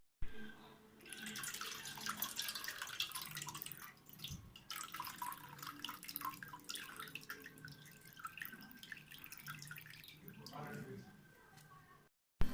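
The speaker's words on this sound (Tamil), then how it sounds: "இதில் இருக்க தண்ணியை வடிகட்டி எடுத்துக்கலாம்." Water from grated watermelon rind strained off, giving a close, continuous trickle and drip with small splashes and squelches while a voice speaks over it throughout.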